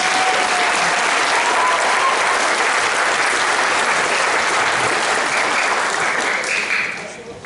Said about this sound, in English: We're going to need a little bit more applause than that for something this kind.